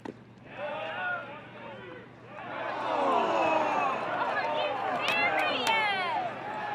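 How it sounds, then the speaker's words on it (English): A college baseball crowd at an NCAA game groans and murmurs in disapproval after a strike call, a swelling mass of voices under a commentator's speech, with a few whistles cutting through. "You can hear by the crowd reaction that nobody was pleased with the strike on Sargent."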